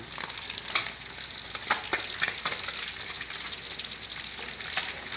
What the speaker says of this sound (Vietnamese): Cá này chiên khoảng bao nhiêu phút để chị lấy ra?